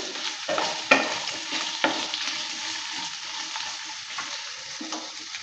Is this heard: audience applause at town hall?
no